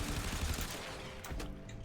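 Rapid bursts of explosive gunfire and blasts ring out in a Warframe battle, a dense fusillade with sharp cracks near the end, moderately loud and without speech.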